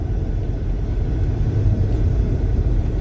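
A car engine gives off a low, steady rumble, close by and constant throughout with no clear rise or fall in pitch, and no voices over it.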